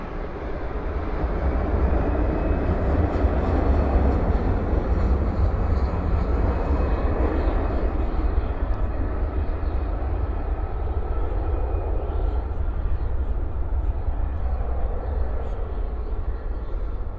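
An Airbus A321 jet lands at night at Dallas Fort Worth airport with its reversers deployed, giving a steady, rumbling engine roar at moderate distance that fades slightly toward the end.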